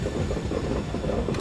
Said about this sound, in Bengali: দেখো এই হচ্ছে আমাদের ট্রেন